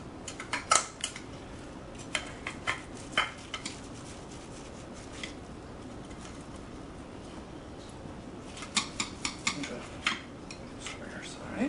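A knife cutting a baked spinach quiche and a utensil clinking on a dish, heard as sharp taps and scrapes in clusters at the start and again near the end, with quiet stretches between.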